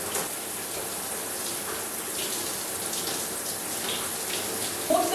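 Water runs steadily from a tap indoors, a soft continuous splashing hiss as hair is soaked, fairly quiet and close with no talk.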